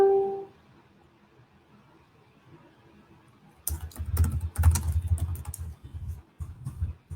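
Tags being typed on a computer keyboard: after a quiet stretch, a close, steady flurry of key clicks and thumps runs on without pause, with no voice over it.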